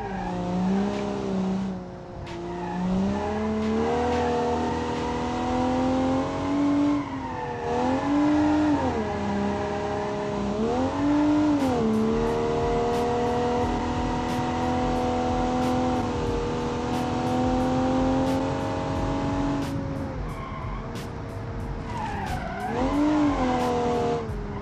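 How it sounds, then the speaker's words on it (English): Engine revs rise and fall continuously as an open-differential car spins its wheels hard in BeamNG.Drive, with tire squeal and sliding over a loud, sustained drone. "Massive wheel spin from the open differentials."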